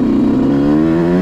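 Yamaha YZ125 two-stroke dirt bike engine lugging at low revs on a trail, a loud, close, steady buzzing drone that slowly rises in pitch before cutting off.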